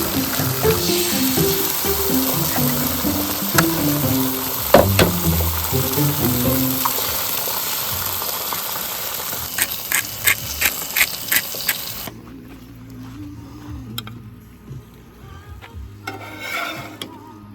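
Eggs frying in a pan at a campground in Humboldt Redwoods State Park, with a steady close sizzle and some stirring scrapes that fade to quieter, scattered crackles near the end.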